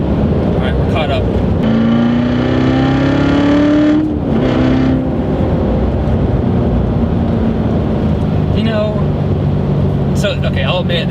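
A 2015 Corvette Z06 engine revs loud and close while driving, rising in pitch as it accelerates and then easing off into a steady drone.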